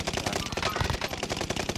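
Loud, rapid automatic gunfire from a Call of Duty: Warzone firefight, a dense, continuous burst of close shots filling the whole moment with no voices.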